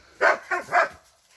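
A dog in a garden gives a quick series of three sharp barks nearby, close together, then falls silent.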